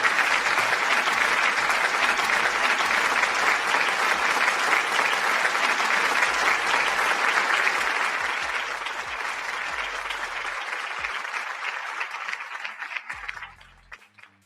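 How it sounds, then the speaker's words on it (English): Sustained crowd applause, dense and loud, holding steady for several seconds before thinning and fading out toward the end. "give the moderators a round of applause"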